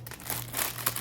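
Packaging on an advent calendar gift crinkles as it is opened, in a brief, close, continuous rustle with a louder crackle near the end.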